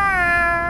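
A person imitates a cat with one drawn-out, falling meow, close and alone with no other talk, set in a Russian neighbourhood.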